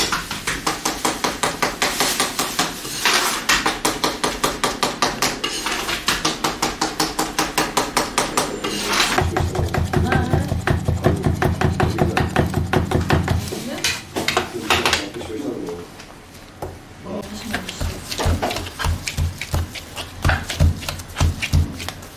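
A butcher from Hatay chops meat and vegetables for paper kebab, loud rapid cleaver or knife strikes hitting a board in a fast even rhythm, then sparser blows and clattering dishes near the end.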